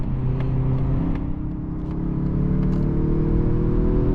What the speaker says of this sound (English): We'll do another little acceleration here.